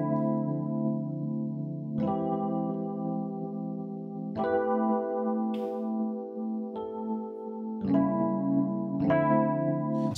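Sustained keyboard chords with a chorus-type effect moving through a slow R&B progression, each chord change landing roughly every two seconds, smooth and continuous with no voices.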